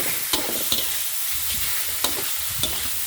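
Pork and Thai pork sausage stir-frying in a pan with long beans, giving a continuous sizzle broken by a few sharp spatula scrapes and taps at irregular intervals, close and alone.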